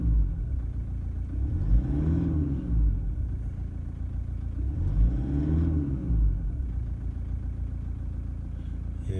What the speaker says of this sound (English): it's like rough coming back to idle. Rough idle.